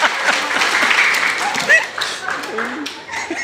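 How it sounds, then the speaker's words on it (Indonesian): A church congregation at GKS Jemaat Pelly in Sumba Barat Daya claps during a sermon, producing a steady wash of applause for about three seconds with a voice speaking over it. "Tepuk tangan sudah."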